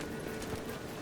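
Roach, a horse in The Witcher 3, gallops with a steady run of soft hoof clops under a continuous wash of ambient game sound, close and unbroken.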